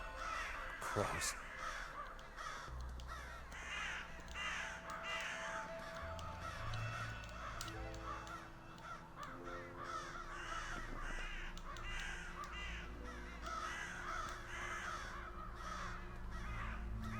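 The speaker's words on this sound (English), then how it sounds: "Crows." Crows caw repeatedly in the horror adventure game Saint Kotar, their harsh calls scattered over a low ambient drone and occasional game sounds, moderately distant and fairly quiet.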